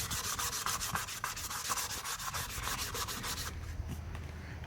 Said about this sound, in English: just start sanding in even lines